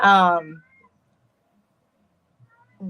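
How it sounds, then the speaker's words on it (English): An indoor house cat lets out one loud, clear meow up close, then after a near-silent stretch a faint start of another cry follows at the end. "if you hear a cat, one of the cats is out"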